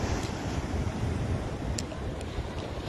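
Strong waves wash steadily at Ko Olina beach lagoon on Oahu, a dense continuous roar of surf mixed with wind buffeting the microphone, with no voices.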